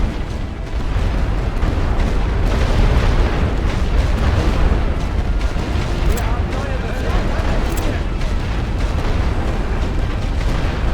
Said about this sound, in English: These need to get in the trench quickly before the artillery runs out.